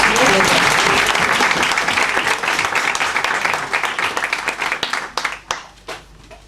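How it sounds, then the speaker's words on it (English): A room of workshop participants gives a round of applause for the hosts, loud and dense at first, then thinning into scattered individual claps that fade out. "let's just do kind of round of applause for our hosts"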